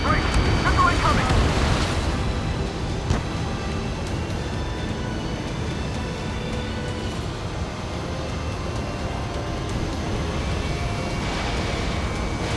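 A missile explodes against a tank in the Ace Combat 7 flight game: a loud broadband blast opens, then a long rumbling roar of debris and battle noise continues, with radio chatter over it.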